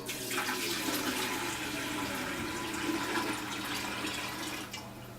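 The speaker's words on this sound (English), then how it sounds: "Removing the lid, fill the filter top section with water." Water pours steadily into the top section of a Doulton stainless steel gravity water filter, a continuous close splashing rush that fills the whole stretch with no voices.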